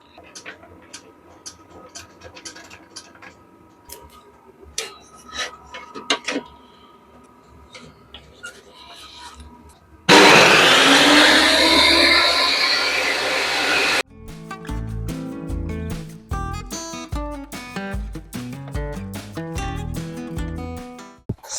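A piece of back panel being cut off for a DIY build: a loud, steady burst of harsh cutting noise lasting about four seconds, preceded by quieter handling and clatter and followed by music.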